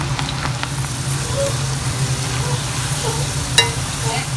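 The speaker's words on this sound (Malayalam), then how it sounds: "ഇനി നമുക്കിതൊരു ചൂടായ എണ്ണയിലിട്ടിട്ട് വറുത്ത് കോരാം" Cabbage pakodas sizzle and crackle steadily in hot oil, a constant close frying hiss with occasional faint clinks.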